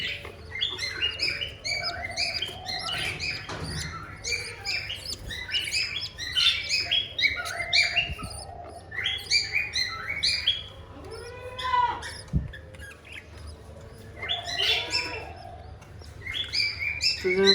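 Pet birds and their chicks chirp and tweet in a rooftop bird farm, with repeated clusters of high calls over a low steady hum. The chirping is fairly close and continues throughout.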